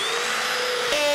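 Lower-torque DeWalt drill running on a low clutch setting, a loud, steady motor whine close by that shifts slightly in pitch near the end, with no talking.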